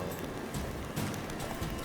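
Horse hooves gallop in The Witcher 3 video game, a rapid, steady clip-clop rhythm under a continuous background wash, moderately quiet throughout.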